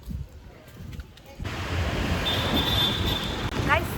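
A metro train rolls in at Silk Institute metro station. A quieter opening with faint voices gives way at about 1.5 seconds to a loud, steady rail rumble, with a thin high wheel squeal sustained over it.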